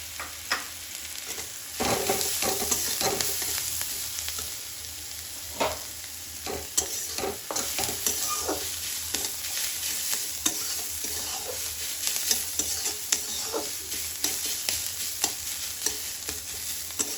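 Sliced onion and carrot sizzle steadily in a pan while a spatula scrapes and clatters through them in frequent, irregular strokes. The sound is close and moderately quiet, with no voices.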